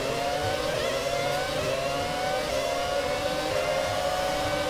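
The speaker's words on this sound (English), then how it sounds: "We should out accelerate the Renault quite easily." F1 racing cars accelerating off the start of the Spanish Grand Prix in F1 2017, a continuous loud engine whine that climbs steadily in pitch.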